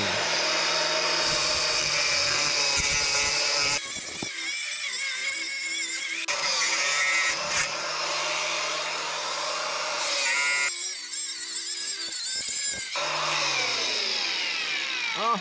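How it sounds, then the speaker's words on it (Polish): A loud, high-pitched angle grinder whine cuts steadily while modifying a spreader, broken into several long passes with short pauses where the motor's pitch drops and recovers. "Potrzebna będzie oczywiście szlifierka starczą do cięcia"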